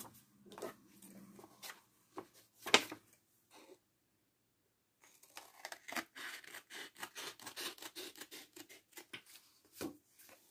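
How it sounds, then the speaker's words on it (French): Scissors trimming the overhanging edge of a card base for a handmade greeting card: quiet, close snips and papery rubbing in short clusters, a silent gap, then a steadier run of small cuts. "je retourne ma carte et je viens couper ce qui dépasse"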